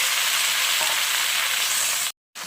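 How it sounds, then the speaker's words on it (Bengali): Bay leaves and white cumin seeds sizzle and crackle steadily in hot oil for a Bengali grated taro dish with coconut and mustard, a loud continuous frying hiss that cuts off briefly near the end. "দেখো আমি এখানে তেজপাতা আর একটু সাদা জিরা ফোড়নে দিয়েছি এবার আমি সেগুলিকে এখানে দিয়ে দিলাম"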